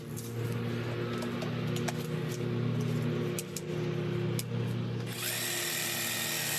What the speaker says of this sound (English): So water is coming out of this one right now.